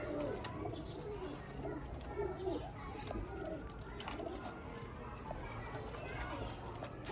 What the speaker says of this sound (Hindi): ये होते हैं जनाब काले मुंह वाले कबूतर।